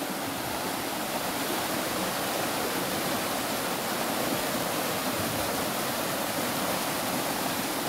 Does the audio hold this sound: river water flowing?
yes